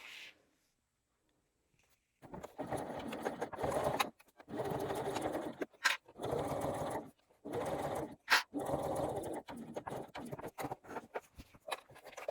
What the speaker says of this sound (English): Sew the side seams at 3/8 of an inch, backstitching at the beginning